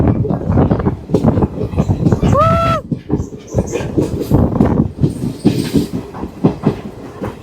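A train rolls into Rameswaram station loudly with rhythmic clattering wheels and a short squeal of brakes, faint voices underneath.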